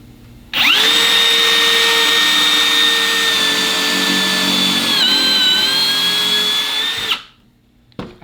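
A Festool MB 40 drilling a hole in wood: a loud, steady high-pitched motor whine starts abruptly, holds for about six seconds with a brief dip in pitch under load, then spins down, followed by a short knock.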